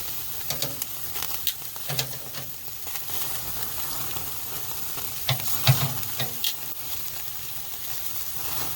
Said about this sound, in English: Just trying to sear them up a little bit.